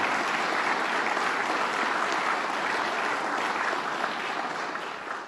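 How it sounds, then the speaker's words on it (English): Audience applause at a state budget signing in Oswego, a full, even roar of many hands clapping that stays strong for several seconds before starting to taper off near the end. "Let's give them a round of applause, and Bill Magnarelli."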